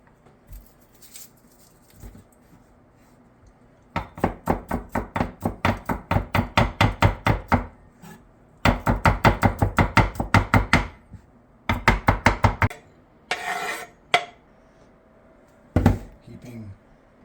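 A knife chops garlic on a cutting board for a pickle pizza sauce, giving fast, steady runs of close, crisp taps in several bursts, with brief pauses and a few scattered knocks between.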